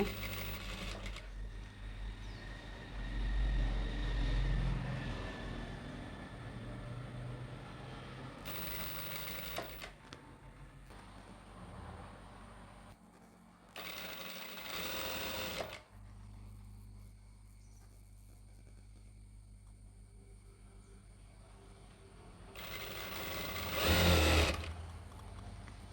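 A sewing machine stitches a churidar in a steady, fast whirring hum that runs almost throughout, broken by a few brief bursts of louder clatter, with no talk.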